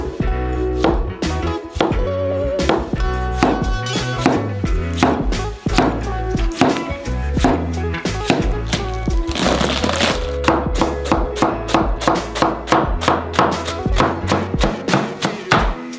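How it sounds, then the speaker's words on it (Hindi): A knife chops a tomato on a cutting board with quick, sharp, rhythmic strikes. The thumps run loud and close, with only a few short pauses throughout. "टमाटर काट लेंगे।"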